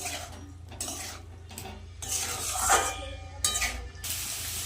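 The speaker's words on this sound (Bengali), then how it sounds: "এবার আমি আলুগুলো দিয়ে দেবো ভালো করে এবার কষাবো মশলাটাকে আর একটু ভাজা ভাজা করে নেব" Potatoes and masala being stirred and fried in a pan, scraping spoon strokes against metal in repeated bursts over a soft sizzle and low hum, close with no talk.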